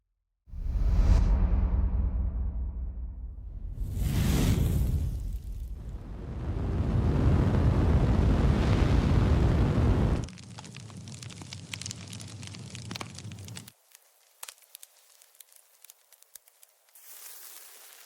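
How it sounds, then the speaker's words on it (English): Fire sound effects build a fiery furnace soundscape: loud roaring, whooshing bursts of flame swell and fade in several waves, then give way to a crackling, rumbling layer and finally sparse faint pops and crackles. "I made this soundscape by using some fire sounds"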